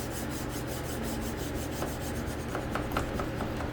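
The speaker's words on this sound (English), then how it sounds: "this file's really nice and small teeth on it, so it doesn't gouge up the metal as much" A fine-toothed file rasps back and forth across the steel of a Bowie knife blade, steady close rhythmic strokes at an even pace with no talk.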